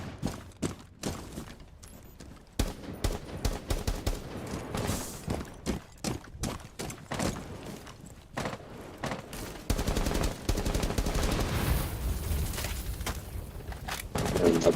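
Bursts of automatic rifle fire and single shots in Rainbow Six Siege, sharp repeated cracks in uneven rhythm, growing into sustained loud firing toward the end.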